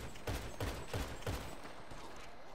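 Rapid bursts of gunfire in GTA V, four or five sharp shots in quick rhythmic succession followed by a fading tail, fairly distant and quiet.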